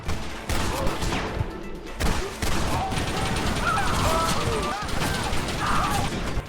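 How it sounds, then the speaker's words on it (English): Shootout in the video game Red Dead Redemption against a gang's men: continuous loud volleys of rapid gunfire mixed with clattering mechanical weapon sounds, close and dense throughout. "We shoot our way through Dutch's men,"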